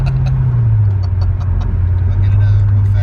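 A naturally aspirated Chevrolet Corvette C6 engine drones steadily inside the car, a loud low tone that dips slightly then rises as it accelerates, with a person talking over it.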